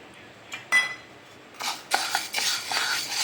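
Black urad dal dry-roasting in a pan, heard as a few sharp spoon clinks followed by scraping, rattling stirring bursts of the grains against the metal, close and fairly quiet.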